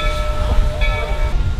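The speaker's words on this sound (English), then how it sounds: "All aboard. All aboard. Disney Choo Choo Train, huh?" A train at the Magic Kingdom in Disney World rumbles loudly and steadily nearby, with a low continuous drone and faint whistle-like tones above it.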